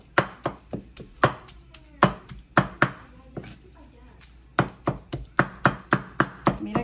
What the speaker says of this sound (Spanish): La voy a picar aquí en esta linda tabla que me hizo mi hijo